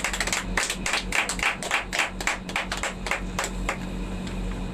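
Worshippers clap rhythmically in acclamation at an evangelistic campaign service, a quick, even run of sharp hand claps that starts strong and gradually fades, with no voices over them.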